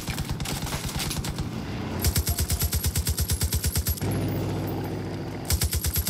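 Rapid automatic gunfire aimed at a wolf in a video game, loud and close, with steady rhythmic bursts of evenly spaced shots and brief pauses between strings.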